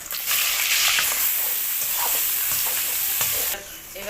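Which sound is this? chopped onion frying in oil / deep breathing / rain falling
chopped onion frying in oil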